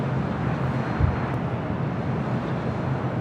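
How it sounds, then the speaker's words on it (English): An Air New Zealand Boeing 777 arriving from Auckland touches down at LAX, a steady, broad jet roar that holds evenly throughout with a faint bump partway through, heard from a distance with no voices. "Air New Zealand, the 777 coming in from Auckland, touching down to 5 left."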